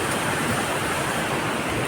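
Devkund waterfall in Similipal National Park, Odisha, a steady, broad roar of rushing, splashing water, constant and fairly loud with no pauses.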